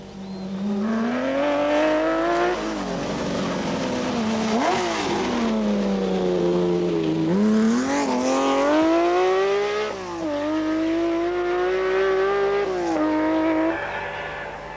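Opel Ascona rally car at the 1982 Ypres rally, engine revving hard and rising through gears as it races past, loud and close, with pitch sweeping up and down over several shifts.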